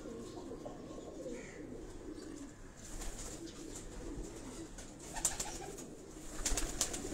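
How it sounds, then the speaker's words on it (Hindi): Pigeons of different breeds coo softly in a rooftop loft in Karachi, repeated low calls sounding faint against quiet background noise with a few rustles and flutters. "अब इस कबूतर को आप देखें दोस्तों, इस कबूतर का शौक करें जरा आप।"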